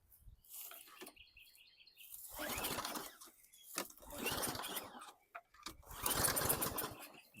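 A 2019 Craftsman M260 lawn mower engine, fed extra fuel, sputters in three rough bursts as it is pull-started. The bursts are separated by short pauses, and the engine briefly catches on the last one. The sound is close and moderately loud.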